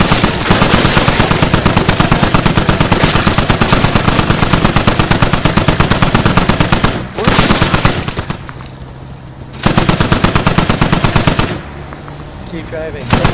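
Rapid automatic gunfire from a squad shooter video game hammers along in long, loud bursts, broken by short pauses, with shouting voices mixed in.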